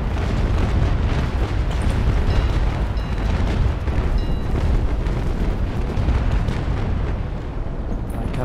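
Ship cannon fire during a port battle at Bluefields in the naval combat video game Naval Action: a dense, continuous barrage of deep booms rolling into one another as a heavy, loud rumble throughout.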